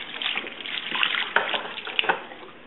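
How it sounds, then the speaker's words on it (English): Warm water runs from a tap onto a Vernacare cloth being soaked at a sink during a peritoneal dialysis exit-site care routine, a steady close splashing rush with a few brief knocks and drips. "Take your vernacare cloth and soak it with warm water."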